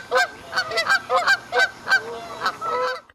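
Canada geese in an urban Los Angeles park honking in a rhythmic series of about ten loud, fairly close calls, with no voices present.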